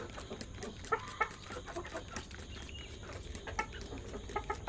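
Four-month-old Elba chickens, one rooster and four hens, cluck softly in a wire coop, with scattered low calls and small scratching sounds spread through steady faint background noise.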